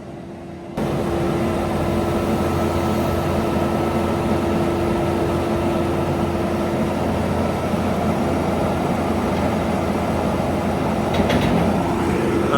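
A contractor's mobile roller mill crushes barley with a loud, continuous mechanical drone and a steady hum, starting abruptly after a quieter opening and running unbroken to the end.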